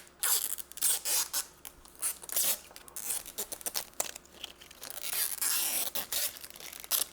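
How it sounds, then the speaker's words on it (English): Protective plastic film is peeled off a new Lego piece, giving a close, crackly tearing and crinkling that runs almost continuously with brief pauses and swells, loud and up front. "there's some plastic to peel, so let's just have the most satisfying peels"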